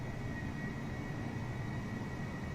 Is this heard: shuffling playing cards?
no